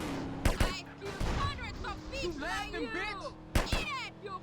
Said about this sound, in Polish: Ponad dwa strzały są? No tak, bo to Desert Eagle.